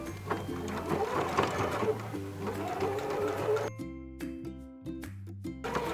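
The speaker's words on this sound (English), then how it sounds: "switch your machine back over to the straight stitch, and we're gonna sew this hem on" A sewing machine straight-stitches a jeans hem in quick mechanical bursts, whirring in several runs with short pauses between, close and clear with no talking.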